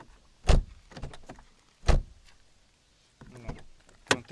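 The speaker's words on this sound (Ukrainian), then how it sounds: "Що можна сказати за двері, що тут звук приємніший, ніж GTI був. Відкриття-закриття дверей." An Audi A4 car door opens and closes close by, giving heavy thuds with softer mechanical clicks and rattles between them, set against a quiet background.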